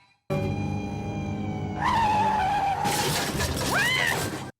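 A loud rising whine builds into a sharp, shrill screech with a crash-like burst of noise, brief and close, with no talking.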